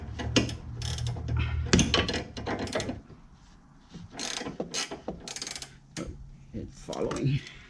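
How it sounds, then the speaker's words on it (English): A ratchet wrench clicks in quick bursts while turning a front stabilizer bar link on a 2008–2014 Mercedes-Benz C300, with metallic ratcheting and knocks close by, pausing between strokes. "Try this one. Has a ratchet."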